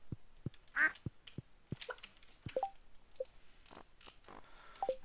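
Coop animals being petted on a farm in Stardew Valley make soft cartoonish quacks and clucks between a run of sharp, evenly spaced clicks, with a few small chirpy blips mixed in at low volume.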